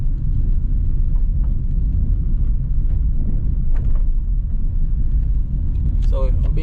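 A car drives through the streets of Duhaney Park in Kingston, Jamaica, sticking to the main roads, with a steady low engine and road rumble throughout and a brief higher-pitched sound near the end.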